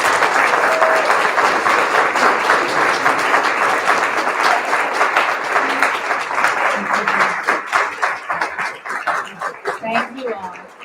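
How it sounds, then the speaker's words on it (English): An audience at an MFA reading event gives sustained, loud applause for a student, steady dense clapping that gradually thins toward the end. "Please, round of applause for our BFA."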